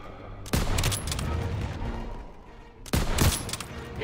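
Machine gun fire in the Call of Duty WW2 campaign, two loud bursts of rapid shots separated by a short lull, over a steady rumble of battle.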